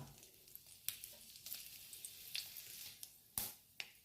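Mustard seeds splutter in hot oil in a home kitchen, with scattered sharp pops and crackles over a soft sizzle, faint and close, with no talking.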